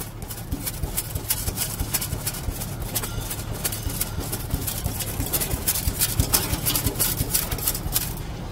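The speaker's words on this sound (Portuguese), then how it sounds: "Escuta o escapamento." A 2014/2015 Chevrolet Tracker 1.4 with 74,000 km idling, its exhaust giving a steady low rumble with a faint rapid pulsing throughout, fairly close and continuous.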